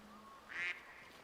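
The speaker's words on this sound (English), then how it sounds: "No, that's just a wild duck." A wild duck gives one short, nasal quack in the Way of the Hunter video game, heard at a moderate distance over a quiet outdoor ambience.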